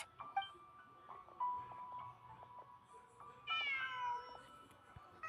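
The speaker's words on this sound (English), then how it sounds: "Huh. Just a cat." A cat meows in the video game Genshin Impact, short soft calls over ambient game music, then a longer rising meow near the end.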